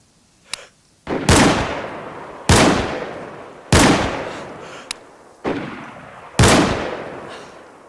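Gunfire in the video game DayZ: a short shot followed by a series of loud, sharp reports with ringing decay tails, spaced about a second apart, close by and with no voices over them.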